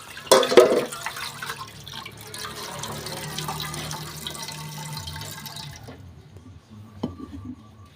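Water spills from a split, mature Balinese coconut, with a splash at the start followed by a steady trickle that fades out, ending in a faint tap.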